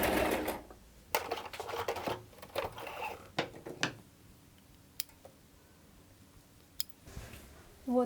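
A sewing machine stitching a seam on a fluffy ruffled dress, several short rattling bursts of rapid ticking stitches close by in the first half, then mostly quiet with an isolated click or two.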